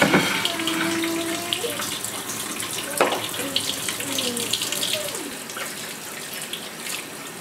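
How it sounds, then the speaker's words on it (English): Hands washed under a running kitchen tap, a steady close rush of water with splashes and a few clinks and squeaks, faint talk now and then. "I'm going to wash my hand."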